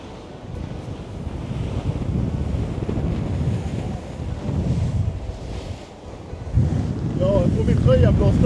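Strong wind buffets the microphone on a luxury yacht at sea off Dubai, with steady rushing waves and surf beneath, swelling louder toward the end, and no clear talk.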